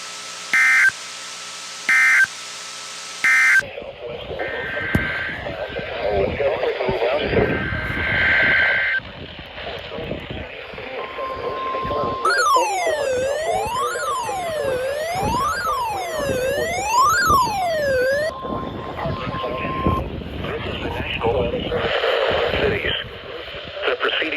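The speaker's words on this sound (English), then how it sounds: "This concludes the weekly test of the warning alarm system." Emergency Alert System warning alarm test tones on a weather radio broadcast: three short bursts of screeching data tones, then a long steady beeping alert tone with a voice announcement, and warbling, sweeping electronic signals running over the speech.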